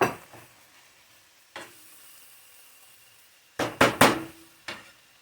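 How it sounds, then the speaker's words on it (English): Metal cooking pots in a kitchen where turkey meatballs with homemade sauce are being made, struck in sharp separate clangs: one at the start, one alone, then a quick cluster of three bangs and a final one, with quiet stirring between. "You're not supposed to bang on your pots like that."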